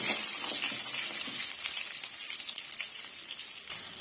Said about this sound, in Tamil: நம்ம வெங்காயம் வெள்ளை பூண்டு இதை வந்து சேர்த்துக்கலாம் லைட்டாக வந்து வறுத்து விட்டுக்கலாம்